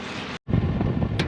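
Water surges through a farm irrigation pipe in a soybean field, a loud continuous rushing roar that cuts out briefly, then returns full and steady.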